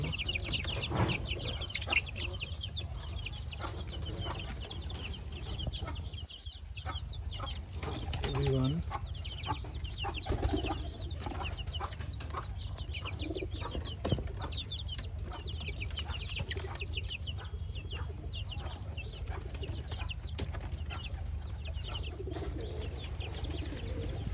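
Domestic hens in a backyard coop cluck on and off, with a few soft calls mixed into a steady hiss of background noise. Faint talk is heard here and there.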